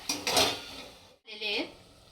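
A lid set on a cooking pot of spicy dried-fish (sukat) chutney topped with chopped coriander gives two short metallic clanks and rattles, close and fairly quiet, separated by a brief silence.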